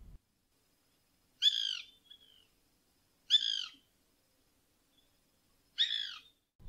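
A campo flicker perched on trees or power poles gives three separate, clear call notes spaced about two seconds apart, each followed by a faint trailing tone, recorded alone in quiet surroundings.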